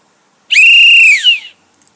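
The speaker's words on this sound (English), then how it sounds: "I bought a whistle today" A small handheld whistle bought on holiday in Scotland gives one loud, sustained shrill blast of about a second with a brief rising tail, alone with no talk.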